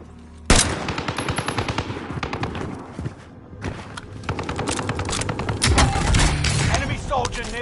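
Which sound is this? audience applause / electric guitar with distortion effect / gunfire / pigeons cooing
gunfire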